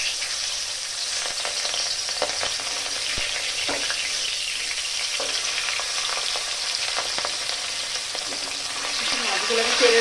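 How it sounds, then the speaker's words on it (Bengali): Katla fish pieces fry in hot oil with a constant bright sizzle and scattered pops, close and steady, swelling a little louder near the end. "মাছগুলো আমি তেলের মধ্যে ছেড়ে দিলাম।"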